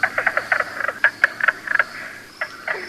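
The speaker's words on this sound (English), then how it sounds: "Right behind him, we might run into a mink frog," Loud, close mink frog croaks in quick irregular bursts, clucking knocks repeated in clusters with brief pauses between runs, in spring in Michigan's Upper Peninsula.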